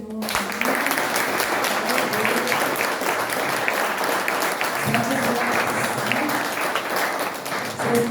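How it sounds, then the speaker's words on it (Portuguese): A church congregation claps together during an evening healing and deliverance service, a dense, steady applause that fills the room, with faint voices mixed underneath. "As palmas louvam o Senhor."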